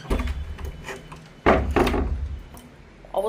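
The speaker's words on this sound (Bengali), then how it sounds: "দরজাটা বন্ধ করতেই হবে" A wooden house door being pushed shut during a rainstorm: rubbing, knocking wooden thuds and scrapes in a few bursts, close and moderately loud, with no voices.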